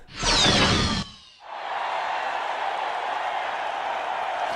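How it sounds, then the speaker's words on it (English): Arena crowd in the Ratchet Deadlocked video game roars steadily in a broad, sustained wash after a brief loud whoosh at the start, with no voices over it. "Oh, listen to that crowd, Juanita!"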